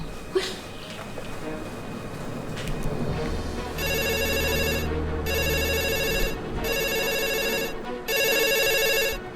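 A hotel telephone rings in four loud, evenly spaced electronic bursts, close by, after a stretch of room noise, with people talking in the background.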